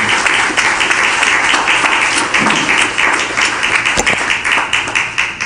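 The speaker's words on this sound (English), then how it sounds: "Let's put our hands together." Audience applause at a funeral tribute service, steady dense clapping from a crowd filling the room, loud and continuous with scattered sharper claps near the end.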